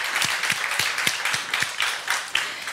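A live audience claps after a School-Pedia project presentation at a Jugend hackt Rhein-Neckar 2022 youth hackathon. The sound is a dense, steady burst of applause with sharp individual claps audible throughout.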